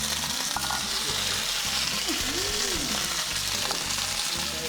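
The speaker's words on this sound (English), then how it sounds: "So now we're gonna saute." Garlic and peppers saute in a hot pan with an even, crackling sizzle that holds steady throughout, close and fairly loud, with a few faint bumps of utensil movement.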